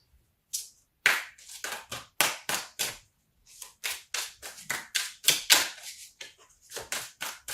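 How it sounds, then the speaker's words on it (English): Tarot cards shuffled rapidly and energetically, a string of sharp riffling slaps and flutters in quick bursts with brief pauses between, close and crisp. "I do shuffle like a maniac"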